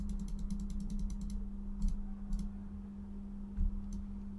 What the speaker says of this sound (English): A nice little finale there after a few clicks of the button.